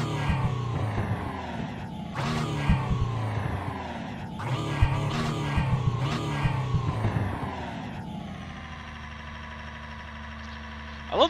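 A race car engine in the iRacing sim, said to sound like a truck, revs and shifts repeatedly, rising and falling in pitch, then settles to a steady idle drone near the end, with no talking.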